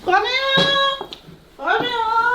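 A cat meows twice, rising and falling tonal cries, with a brief thump and a short pause between them.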